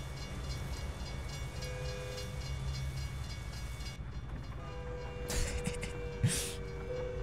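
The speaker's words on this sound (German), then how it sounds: "Chat, da kommt ein Zug!" A train in the trucking game American Truck Simulator rumbles past at night in the rain, a steady low rolling drone with a couple of brief sharper bursts near the end, no talking over it.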